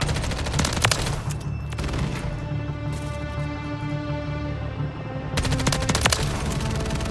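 Sustained rapid automatic gunfire from an Overwatch helicopter killstreak in Call of Duty, loud bursts with a short lull in the middle before the firing resumes.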